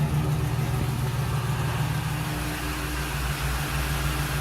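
2008 Chevrolet Express van engine idling steadily after an engine swap, a low, even hum with a smooth, unbroken rumble, fairly quiet and close, with no misfires.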